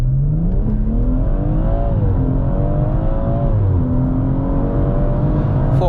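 A BMW M140i Shadow Edition, tuned to 440 bhp, launches hard: the engine climbs through rising revs, dips briefly at a gear change and pulls up again, loud and close from the driver's seat.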